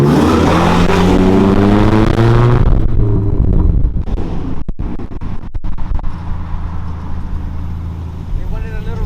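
A car engine revs and accelerates on a downtown Houston street, with a loud rising drone at the start fading into rougher idling, while people talk over it.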